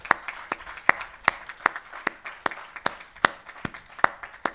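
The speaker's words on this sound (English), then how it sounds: "let's all take a second to clap for all of our graduates." Clapping rings out during a community college spring graduation ceremony. Sharp, distinct claps sound close by in a steady, even rhythm of roughly two or three per second, with little else around them.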